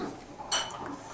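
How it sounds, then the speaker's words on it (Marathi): An ice cube dropping into a glass for a chilled summer drink, a single close, bright clink midway through an otherwise quiet moment. "त्यासाठी ग्लासमध्ये आपण काही बर्फाचे तुकडे घालूया."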